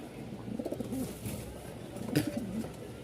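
Soft, low cooing from a pair of Lahori Sirazi pigeons close by, a couple of rolling coos over a faint background hum.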